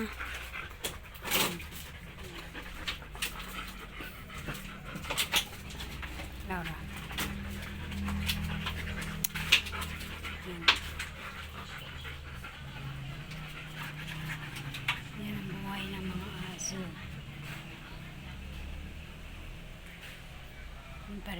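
Dogs pant steadily at close range, with a few short whimpers and scuffling noises, while people talk in the background throughout.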